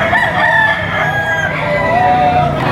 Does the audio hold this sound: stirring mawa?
no